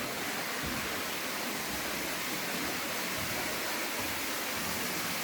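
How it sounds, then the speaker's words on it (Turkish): An underground waterfall inside Karataş Cave in Antalya roars as a steady, hissing wash of falling water, constant and fairly loud throughout with no voices. "Yeraltı şelalesi."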